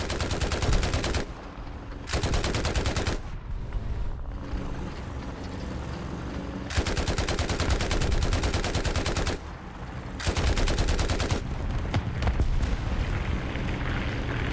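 Machine guns on a T-35 tank in War Thunder firing long loud bursts, rattling continuously for stretches of several seconds with short pauses between, close and dominant.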